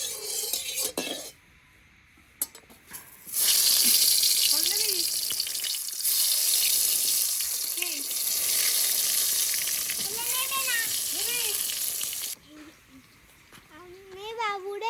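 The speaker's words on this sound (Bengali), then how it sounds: "বেগুন ভাজা নিচ্ছি" Eggplant sizzles steadily in a hot pan at home, a continuous bright frying hiss with occasional utensil clinks, while a voice and other speech come and go over it.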